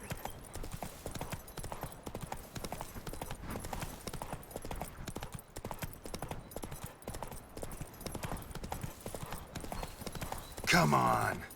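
A horse galloping in the video game The Witcher 3, a steady rapid clip-clop of hooves continuing throughout, with a loud whinny near the end.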